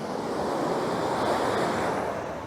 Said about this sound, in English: I've just noticed that there's loads and loads of really nice water movements